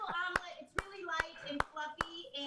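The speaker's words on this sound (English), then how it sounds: "Clapping in the control room." Hand claps ring out from a studio control room during a cooking segment on making an omelet, five or six even, sharp claps in a steady rhythm under overlapping talk.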